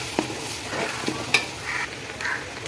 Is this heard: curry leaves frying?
yes